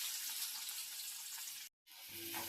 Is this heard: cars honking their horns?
no